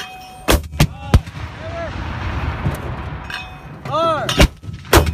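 U.S. paratroopers firing mortar rounds during training, with loud sharp blasts and booming reports at irregular intervals, partly close and partly distant, over outdoor ambient noise and shouted commands.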